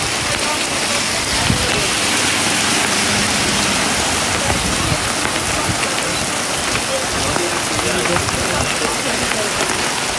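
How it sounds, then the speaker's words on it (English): Heavy rain pours steadily during a thunderstorm in Benidorm, a dense, even hiss of drops striking surfaces close by, with no letup. "This is the first rain that we've had all week."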